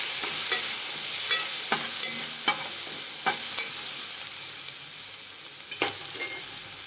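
Ground paste with crushed chilli and curry leaves sautés in hot oil. A steady low sizzle runs under repeated sharp scrapes of a spoon stirring in the pan, with no talking.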